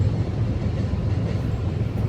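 A continuous low rumble of a train rolling over a bridge, steady and heavy with faint rhythmic clatter, no voices.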